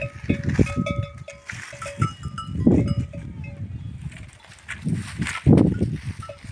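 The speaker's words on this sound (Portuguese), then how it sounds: "Essa daí é filha da tua cabra." Goats bleat close by among a small herd on a farm in Petrolina, Brazil, with a clanking bell and shuffling animal noises; a few cries rise louder than the rest.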